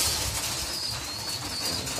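Racing pigeons feeding on corn while being prepared for a race of over 100 km, soft cooing and faint pecking among the flock, heard close and continuous through a short burst of steady background noise.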